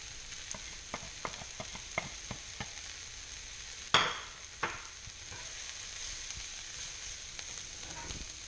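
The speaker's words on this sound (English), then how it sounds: "And our spice mix, just to toast it and kind of cook in the olive oil" Spice mix with diced jalapeños toasting in olive oil, a gentle sizzle under a series of light scraping stirs, with one louder clatter in the middle, close and quiet.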